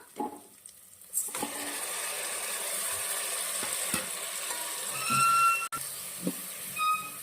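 Tomatoes dropped into a pan of oil-fried onions for a mixed vegetable curry, setting off a loud, steady sizzle and hiss after a quiet start, with occasional scraping stirs and clinks of a utensil.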